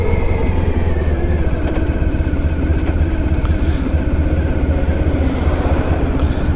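A classic motorcycle riding steadily, its engine drone loud and continuous with strong low rumble and wind noise throughout, no talking.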